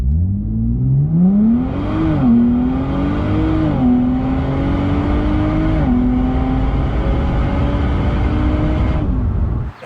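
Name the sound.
Nissan Z exhaust roaring under hard acceleration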